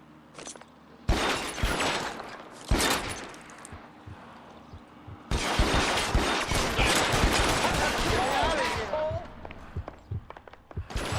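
Bursts of gunfire in the L.A. Noire police game, loud broadband volleys with short pauses early, then sustained rapid shooting throughout, footsteps and clunks mixed in, with voices talking over it.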